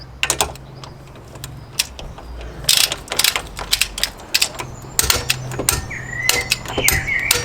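A ratchet tightens bolts on a MK2 Ford Focus ST in quick bursts of sharp, close clicking separated by brief pauses, with no speech.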